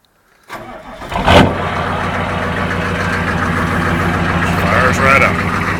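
A diesel engine with exhaust stacks and a worn injection pump cranks briefly and fires up, then settles into a loud, steady, rumbling high idle close by.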